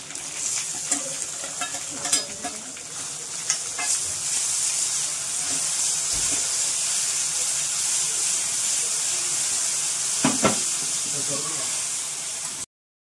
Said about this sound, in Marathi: हे आपलं मिरची व्यवस्थित भाजून झाली आहे